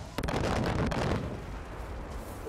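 Heavy bomb explosions in the video game Far Cry, a loud, dense roar of blasts and crackling bursts that is strongest in the first second and then fades into a sustained rumble.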